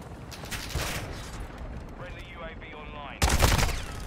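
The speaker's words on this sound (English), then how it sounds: "Of course he has a fucking machine gun as a secondary" Gunfire from a machine gun carried as a secondary weapon in Modern Warfare 2, a loud burst of rapid shots erupting near the end after quieter game sounds and muffled talk.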